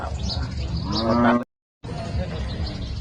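Cattle at the Thung Fa Bot cattle market give one loud, close moo that swells and ends abruptly, followed by a brief silence and then steady market background noise.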